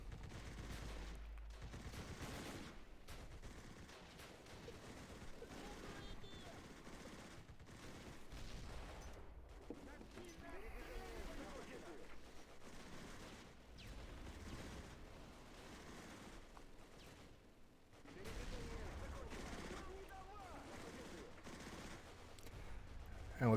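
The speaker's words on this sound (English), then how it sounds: "I did start bringing some mortars down on these positions in these buildings over here" Mortar fire and other battle noise from the Close Combat war game rumble continuously in the background, with irregular distant thumps and bursts of gunfire at low volume.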